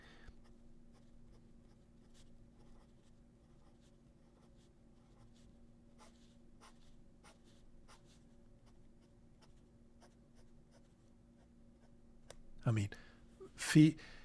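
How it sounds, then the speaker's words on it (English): A fountain pen nib scratching quickly across paper in faint, close strokes under a low steady hum, followed by a couple of louder brushing rustles at the very end. "The feed and the nib just follow perfectly. Fast writing."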